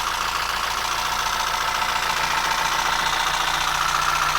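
A steady engine runs continuously at close range, a constant rumbling drone with a rapid knocking texture and no talk.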